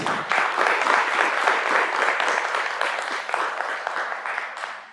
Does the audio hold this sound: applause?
yes